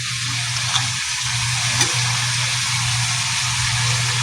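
Jackfruit pieces frying in a spiced masala in a pan, giving a steady, close, moderately loud sizzle with a low hum beneath and a couple of faint stirring clicks, no talking.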